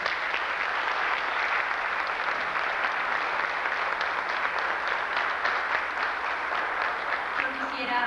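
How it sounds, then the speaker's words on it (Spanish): Sustained applause from an audience at a tribute event honoring Epifanio Méndez Fleitas, a continuous dense clapping that holds steady throughout with a faint voice emerging near the end. "nuestro cerrado aplauso a don Epifanio Méndez Fleitas"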